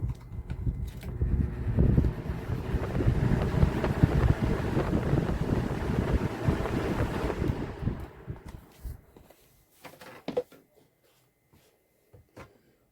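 A 1994 Lakewood Kool Operator 007 electric fan winds down after being switched off, its steady whooshing whir fading over about eight seconds, followed by a few faint clicks and knocks in near silence.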